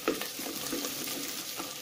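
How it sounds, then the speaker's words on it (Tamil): Onions frying in peanut oil in a clay pot, giving a steady close sizzle with soft crackling and a light stir near the start, no talking. "வெங்காயம் நல்லா வதங்கிடுச்சு பாருங்கள்."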